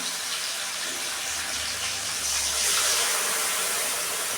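Hot water is poured onto bhola fish seasoned with mustard oil, chili powder and turmeric, making a continuous close, rushing hiss that swells slightly near the end.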